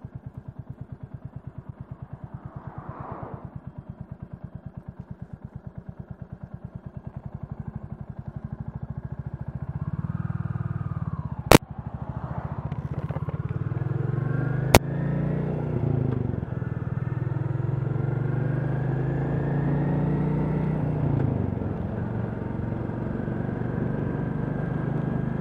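A Royal Enfield Classic 350 motorcycle is ridden on a road with a steady loud single-cylinder thump and wind rush, revs rising and falling through gear changes, with two sharp clicks along the way.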